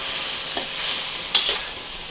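Mushrooms and zucchini fry in a stir-fry pan for a keto dish, releasing a dense, steady sizzle with a few quick stirring scrapes, close by and with no voice.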